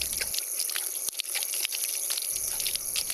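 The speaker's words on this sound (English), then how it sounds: "It also feeds a 12-volt pump to drive the water feature in my pond" A small water jet driven by a 12-volt pump splashes and trickles steadily in a garden pond water feature, a continuous bright hiss with faint droplet patter, fairly close and alone.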